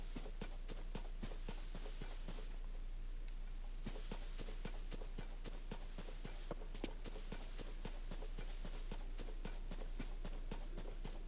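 Horse hooves clip-clopping at a brisk gait in Zelda Tears of the Kingdom, a rapid regular rhythm of sharp hoof strikes that continues almost throughout, up close and clear.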